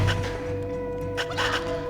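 Chickens cluck in the video game Dungeon Keeper, a few short fowl calls sounding over a steady game music drone in a brief quiet passage.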